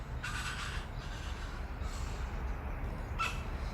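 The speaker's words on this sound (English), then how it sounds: "That's the wattle bird you can hear in the background." Harsh, raspy wattlebird calls ring out in three short bursts from gum trees against a steady outdoor wind rumble, moderately distant and faint.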